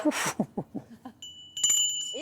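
A bright metallic bell tone rings out and sustains near the end at the Paccard bell foundry in Sévrier, after a burst of noise and a few low voiced sounds.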